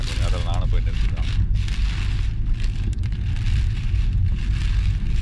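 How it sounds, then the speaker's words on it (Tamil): Rain mixed with small hailstones falls in Wellington, New Zealand, making a dense, steady patter and crackle close by, while a person talks over it. "மழை கொஞ்சம் குறைஞ்சி வச்சு ஐஸ் விழுகிறது, ஆனால் ரொம்ப சின்னதாக விழுகுது. ப்ளஸ் மழையும் பெய்யுது"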